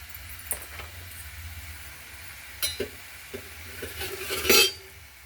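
Vegetables with green chillies, salt and sugar stirred in a pan, a few soft scraping and clinking touches of a utensil against the metal, ending in a louder clatter, with no talking.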